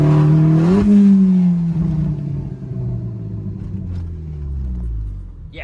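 A Vauxhall Corsa VXR engine revs sharply once, then settles into a deep, loud idle rumble with a falling tone; no talking.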